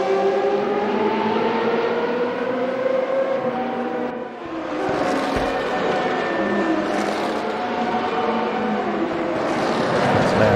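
Race cars in the Tuesday Thunder sim racing event, including an ICE-sponsored FR2 machine, roar continuously with layered engine drones and shifting pitch, a busy pack sound that dips briefly before swelling again.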